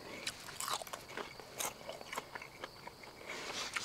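Crunchy soft shell crawfish being bitten and chewed up close, a run of crisp irregular crunches and wet chewing clicks at fairly low volume, with no talking.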